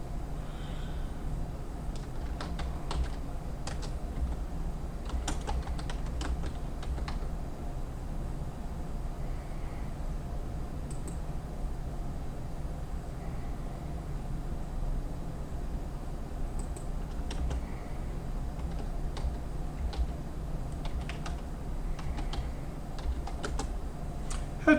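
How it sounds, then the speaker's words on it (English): Computer keyboard typing, steady bursts of key clicks through the whole stretch over a constant low hum, with no voices. "I do some typing."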